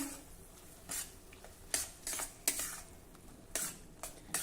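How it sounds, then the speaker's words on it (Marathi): Ground peanut paste stir-fried with kantola (spiny gourd) vegetables in a pan over medium-low flame, giving a soft continuous sizzle broken by repeated scraping and clinking of a spatula against the pan, close and alone. "आता या वाटणासह आपल्याला हे साधारण तीन ते चार मिनिटांसाठी परतून घ्यायचं आहे"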